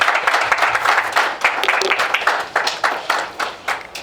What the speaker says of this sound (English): A better clap, please.